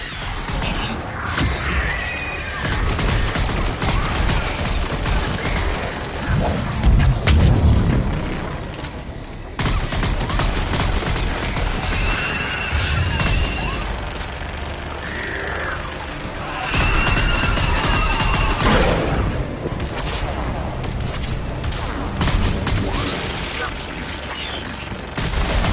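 Mass Effect 3 battle with a gunship's missile strikes and gunfire: repeated crashing booms and rapid bursts of fire, loud and close, in dense chaotic waves across the whole stretch, with voices mixed in.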